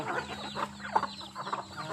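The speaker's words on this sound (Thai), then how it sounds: "นี่เป็นไก่สาว ไก่รุ่นสี่ห้าเดือน" Young pullet hens around four to five months old cluck and call repeatedly from close by on a rural Thai farm during the cool dry season, a busy overlapping flock chatter with no talk.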